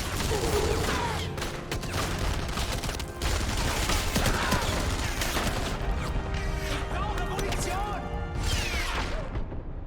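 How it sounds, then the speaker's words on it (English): Heavy machine gun fire in the World War II shooter Enemy Front, set during the Warsaw Uprising: dense, loud, sustained bursts of gunfire and crashing impacts fill the whole stretch with barely a pause. "Target the HMG!"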